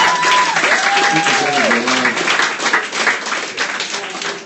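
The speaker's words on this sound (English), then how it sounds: "Come on, guys, clap your hands." A crowd at a live roast battle tournament claps steadily throughout, broadband and dense, with an announcer's voice talking over it near the start.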